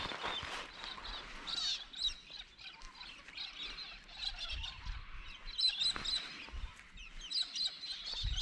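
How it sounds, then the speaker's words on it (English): Birds chirp and call at sunrise by Bedford Weir, where galahs and ducks are about. There are many quiet, overlapping tweets and calls at a moderate distance, with soft outdoor background and no talk. "Huge amount of bird life here"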